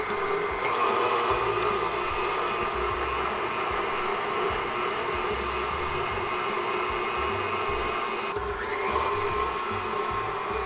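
KitchenAid stand mixer running steadily at medium speed with a whisk attachment while making custard, a loud continuous motor whir with a faint rattling drone, unbroken throughout.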